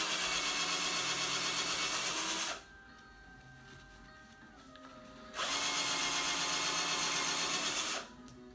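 A waxed part being burnished under a powered spinning tool, loud whirring bursts of about three seconds each separated by quieter gaps of lower hum, sounding close with no talk.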